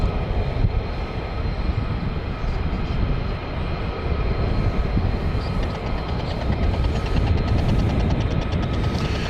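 F-35 fighter jets coming in to land at RAF Lakenheath, a loud, continuous broadband jet roar that holds steady throughout with no voices heard.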